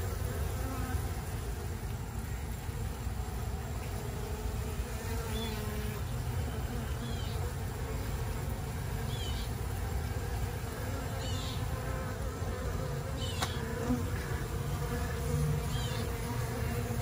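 A continuous low buzz of many bees in a condemned house, a dense steady hum with occasional individual insects passing closer.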